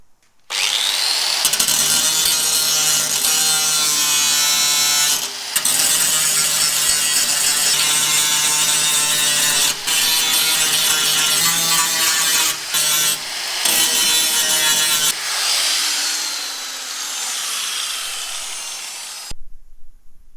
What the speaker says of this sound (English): I'll just grab a grinder, grind that back, and that's this repair pretty much good to go.